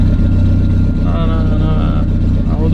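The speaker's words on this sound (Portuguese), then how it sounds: "Vamos ver o barulho do golzinho aí." A small Volkswagen Gol turbo engine hums and revs steadily up close while parked, a continuous loud drone with rising pitch, with faint talking underneath.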